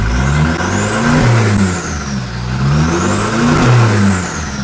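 A truck engine fitted with an electric accelerator pedal, floored and revved hard: loud, close roaring that climbs and falls in two long surges, with no talking.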